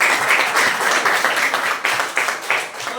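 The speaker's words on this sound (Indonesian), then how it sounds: "berikan lagi tepuk tangan dulu" An audience at a teacher-training class session claps together, a steady patter of many hands with a few sharper bursts, continuing for the full three seconds.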